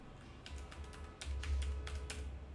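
Quick, uneven keystrokes on a computer keyboard during web design work, a dozen or so close taps rattling over a steady low hum.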